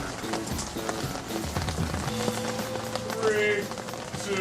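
Steady rain falling on a track during an RC nitro car race, a continuous dense patter with engine whine and background noise mixed in.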